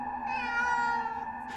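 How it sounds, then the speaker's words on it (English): A house cat gives one long, drawn-out meow, clear and fairly close, with no talking over it. "This is one of our cats."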